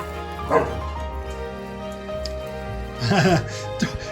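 Dogs on a Colorado ranch whimper and yip over the smell of smoked rabbit, in two short, close outbursts over a constant background hum.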